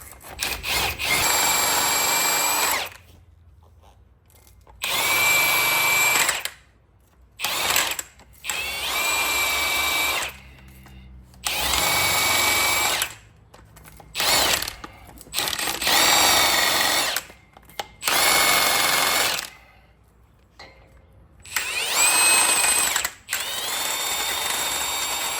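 A half-inch impact wrench on a 2017-2024 Ford F-350 during a brake rotor and pad job fires in repeated loud, close bursts of a few seconds each, with short gaps of quiet between them.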